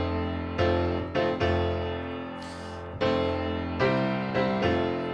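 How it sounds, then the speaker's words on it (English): A piano plays the opening phrase of the wedding march, a handful of sustained chords struck one after another at a slow, stately pace, clear and close with no voices. "One is the wedding song."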